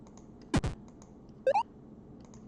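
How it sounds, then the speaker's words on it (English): Chiptune-style sound effects from the Tetris video game: a quick sweeping blip, a pause, then a short rising burst of bright, separate tones like a line clear, ending with another sweep. Clear and fairly close, with no talk. "This is Tetris, the Tetris clear sound."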